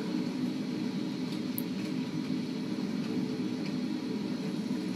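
Steady, droning engine hum from a Focke-Wulf FW190 fighter plane circling low over an airfield in a flight combat game, constant and unbroken throughout with no talk.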